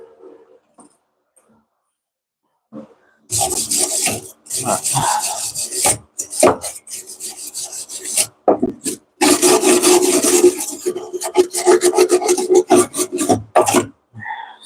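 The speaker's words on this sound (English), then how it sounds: "I have to grab the damn grinder, grind some of that off of there." A grinder works on metal on a floorboard in loud, rough, rasping bursts that start and stop, with short pauses between passes.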